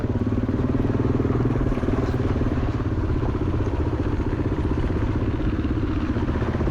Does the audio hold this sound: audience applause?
no